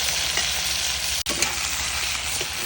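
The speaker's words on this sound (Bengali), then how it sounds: "এরপর এক এক করে মাংসগুলোকে সব ভেজে নিতে হবে" Chicken pieces fry in hot oil in a wok over a clay stove, a loud, dense, continuous sizzle close up with a brief sharp dropout midway and no voices.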